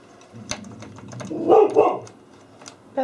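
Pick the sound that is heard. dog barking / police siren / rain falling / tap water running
dog barking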